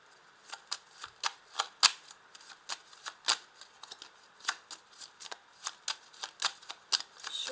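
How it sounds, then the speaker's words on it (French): Tarot-style playing cards are drawn and laid down one after another in a reading, giving a steady run of crisp, close slaps and flicks against a quiet background, with no talking. "Je vais rajouter une carte ici."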